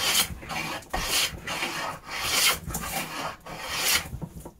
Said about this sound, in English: I set this quite coarse for hogging off wood